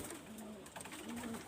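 A single female yellow-eyed Kaldom pigeon gives soft, low coos in two drawn-out phrases, faint against a quiet background with no speech.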